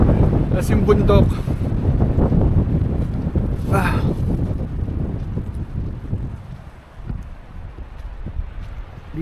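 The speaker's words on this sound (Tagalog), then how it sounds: "Lakas ang hangin." Strong wind at a cold mountain campsite in Bokod, Benguet buffets the microphone in a steady, loud roar, with voices and shouting heard over the gusts.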